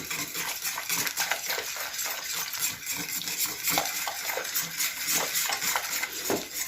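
A spoon stirs a thickening dessert mixture in a pot over low heat, giving steady scraping and clinking against the metal with a soft bubbling hiss underneath, close and continuous with no talking.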